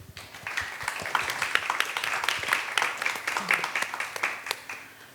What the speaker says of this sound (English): Can we have a warm round of applause,